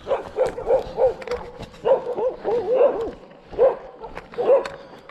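A pack of little Chihuahuas yaps repeatedly outdoors along an Ohio hiking trail, sharp high barks coming in clustered bursts at close range, with no talking over them.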